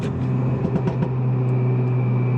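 A Stage 3 tuned Renault Megane IV RS Trophy R in RS mode, its engine humming steadily while a few soft exhaust pops crackle in a brief cluster over the drone.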